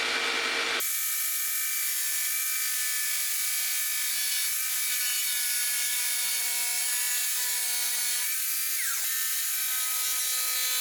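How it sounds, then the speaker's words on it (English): A bandsaw, scroll saw or jigsaw cuts the corners off a piece of wood for a backpack hanger, a steady high whine with a low hum underneath that holds for about ten seconds, close and loud with no talk. "You can use a bandsaw, scroll saw, jigsaw, anything like that to cut the corners."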